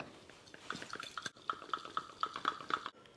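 A spoon stirs pickle brine with mixed peppers and bay leaves in a bowl, giving a quick run of light, evenly spaced clinks and liquid swishes, close and faint with no talk.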